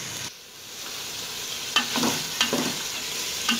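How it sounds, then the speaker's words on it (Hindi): Kidney beans and spices sizzle in hot oil in a pan as a spoon stirs them, giving a constant frying crackle with a few louder scrapes and stirs, close and without talk. "साथ साथ चमचा चलाते जाएं और इसको भून लें 2 मिनट दाल ऐड करके।"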